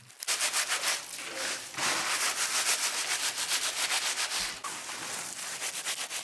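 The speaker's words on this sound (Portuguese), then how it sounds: "Podemos também fixar uma tela em cima de um balde e esfregar os capítulos nela." Sunflower heads are scraped back and forth across a mesh screen fixed over a bucket, giving loud, continuous, coarse rubbing in repeated strokes with a couple of short pauses and no talking.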